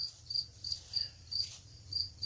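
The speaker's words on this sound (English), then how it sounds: "this fucking cricket that won't shut the fuck up" A cricket chirps indoors in short, evenly spaced trills, about five in just over two seconds, close and steady over a low background hum, with no talking.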